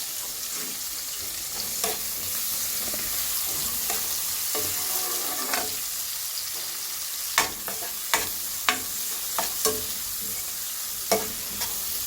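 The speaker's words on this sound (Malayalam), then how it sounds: "ഈ സവാള ഒന്ന് നന്നായി വാടി വന്നാൽ മതി" Sliced onions sauté in a pan for beef pulao with a constant frying sizzle. Sharp clicks of a spoon against the pan are scattered through, getting busier toward the end.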